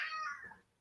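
A domestic cat gives one short, faint meow that fades out quickly, heard alone in a quiet room.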